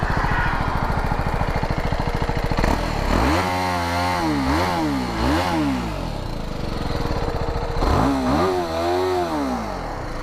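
A BMW 310R motorcycle revs while standing still, its exhaust note rising and falling through several loud throttle blips over a steady, close idle, with no talking.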